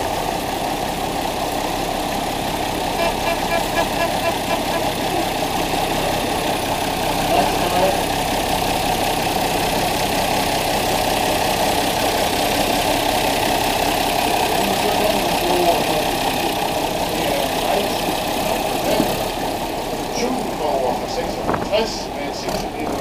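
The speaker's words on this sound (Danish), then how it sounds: "Med en 6-liter Mighty Mustang motor." A vintage tractor imported from Ohio, USA, with a 6-liter Mighty Mustang engine, idles steadily and loudly up close in a continuous low rumble, with a few knocks near the end.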